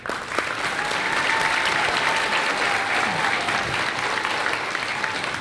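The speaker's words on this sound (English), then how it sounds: "Give them a round of applause." Audience at an elementary school Veterans Day program applauding Army veterans, a full, even roar of clapping from a large crowd that stays loud and continuous throughout.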